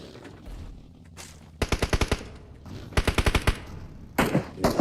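Bursts of automatic gunfire from an esports video game match, heard in three rapid volleys of closely spaced rounds with a short pause between each, loud and prominent against a quieter background.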